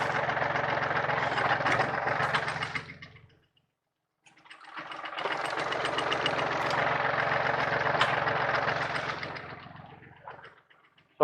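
A tractor engine idles with a steady low rumble, fading out briefly to silence before returning for several seconds, then dropping away again.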